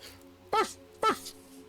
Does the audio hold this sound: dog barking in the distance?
yes